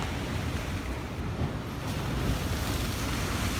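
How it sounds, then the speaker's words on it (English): Ocean waves and surf make a steady, dense roar that fills the clip with no breaks or distinct crashes, heard alone with some wind and no voices. "Listen to the ocean."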